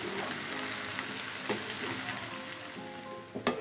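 Tempe cooking in a pan with soy sauce and seasoning, simmering down as the liquid reduces, gives a soft, steady sizzle with occasional stirring scrapes and a brief clatter near the end, fairly quiet and without speech.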